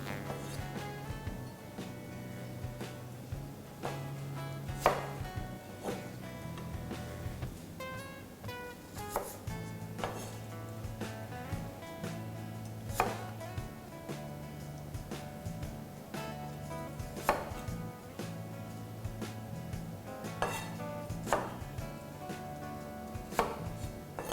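A knife chops an apple steadily on a cutting board, producing repeated sharp clicks over a sustained low musical background, with no talking.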